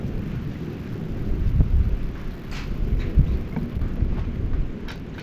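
A thunderstorm close by, with low rolling thunder that swells in several heavy rumbles over a steady hiss of rain, and no voices.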